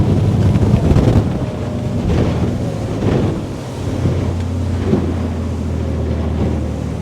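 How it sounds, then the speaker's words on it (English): A Windy 29 Huracan motorboat with a big Volvo six-cylinder engine runs at sea with a steady low drone, mixed with rushing water and heavy wind buffeting the microphone throughout. "You've got that big, powerful Volvo engine providing plenty of grunt."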